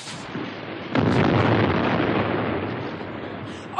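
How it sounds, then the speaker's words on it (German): Radio drama sound effect of shells fired at a tank: a sudden loud explosive burst followed by sustained heavy rumbling and crackle, with no talk over it. "die schießen sich auf den Panzer ein"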